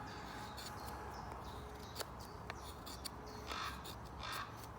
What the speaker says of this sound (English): I've got a crow in the background here, he's been here all morning.